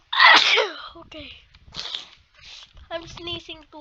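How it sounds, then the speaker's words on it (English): A person lets out one loud, close sneeze, followed by quieter snuffles and brief talk. "I'm sneezing too much."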